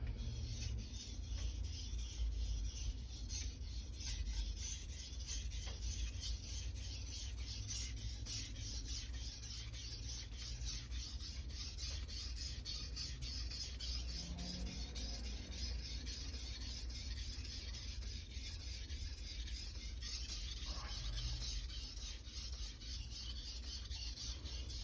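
An SG2 steel Nakiri knife is worked along a sharpening stone from the tip, producing a continuous, even gritty scraping that stays close and steady throughout with no talk.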